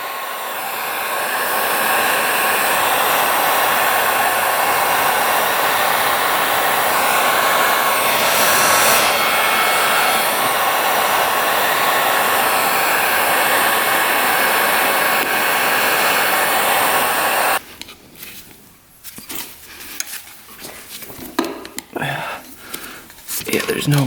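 A heat gun heats the rubber carburetor boots on a dirt bike that has sat unused for twelve years. It blows as a loud, steady rushing hiss for about seventeen seconds, then cuts off to quiet handling noises and faint talk.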